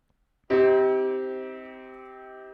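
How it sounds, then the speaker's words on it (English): A single sustained quarter-tone neutral triad, halfway between major and minor, struck once on a piano-like instrument, ringing clearly and slowly fading after a moment of silence. "24-tone music is the neutral triad, which sounds like this."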